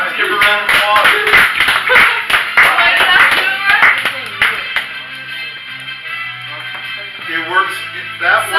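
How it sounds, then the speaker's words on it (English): Guests at a school talk give a round of applause, brisk clapping that is loud at first and then thins out, with voices talking over it. "give her a round of applause"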